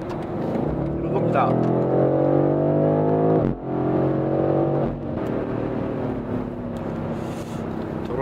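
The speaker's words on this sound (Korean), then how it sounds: "스포츠 플러스에 놓고 가속 페달을 툭 밟자마자 시트가 몸을 쭉쭉 밀어줍니다." A BMW M850i xDrive V8 coupe accelerates in Sport Plus mode, its engine holding a steady, full drone that briefly dips midway, with someone talking over it throughout.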